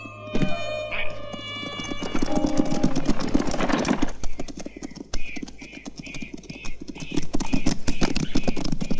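Several horses galloping across open frontier ground, a dense run of hoof clip-clops building under music and shouting voices, the hoofbeats rapid and fairly close before settling into a steady rolling rhythm.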